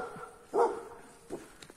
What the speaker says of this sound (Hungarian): Egy kutya már...